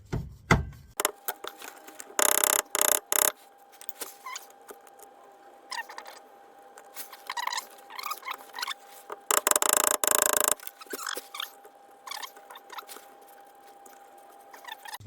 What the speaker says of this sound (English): And grabbing the old faithful hammer.